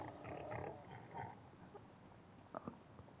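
Farm pigs in Farming Simulator 25 grunt and snuffle close by, with a cluster of grunts at the start and a few softer snorts later, fairly quiet overall.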